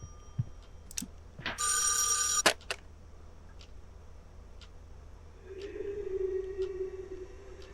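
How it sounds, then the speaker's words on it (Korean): A telephone bell rings in one loud sustained burst in the horror video game [REC]Paroxysm, followed by scattered clicks and a low humming drone in a quiet interior. "전화가 또 오네"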